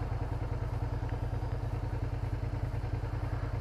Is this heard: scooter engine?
yes